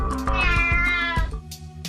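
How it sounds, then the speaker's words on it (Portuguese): A Basenji dog, a breed that howls and yelps rather than barks, lets out a loud, close, drawn-out wailing cry with a meow-like tone, followed by a few short breathy sounds. "Em vez de latir, o Basenji uiva, guincha e até mesmo mia um pouco."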